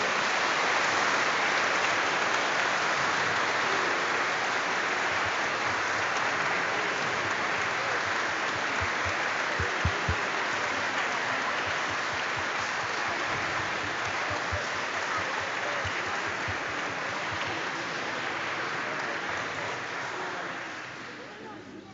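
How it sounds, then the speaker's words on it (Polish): Sustained applause for a children's parish choir in Lublin fills the room, a dense, even roar of many hands clapping that holds steady and then fades slightly at the end. "wielkie brawa dla dziewczyny"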